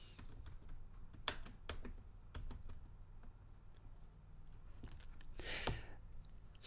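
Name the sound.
typing a letter on a keyboard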